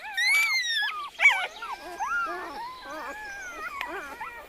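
Wolf pups near the Chernobyl zone give high, wavering whimpers, yips and whines in quick overlapping bursts, close by and fairly clear.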